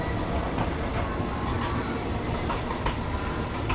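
Riding aboard a steam excursion train from Bangkok to Ayutthaya as it rolls into Bangkok Old Station: a loud, steady rumble of carriages with faint rhythmic clacks of the wheels.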